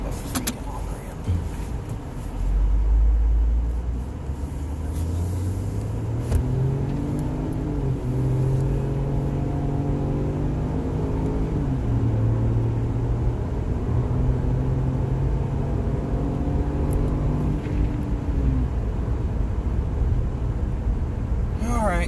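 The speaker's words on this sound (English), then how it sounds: "Backing up a freaking on-ramp." A car reversing up a highway on-ramp, its engine whine rising and falling steadily in pitch with a loud low rumble, heard from inside the vehicle under a driver's voice.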